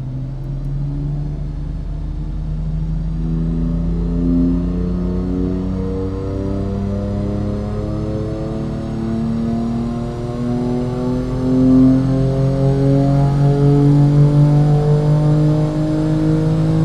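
A BMW M4 Competition engine revs steadily on a dynamometer, a loud, sustained mechanical drone that rises gradually in pitch across the run, with no talking.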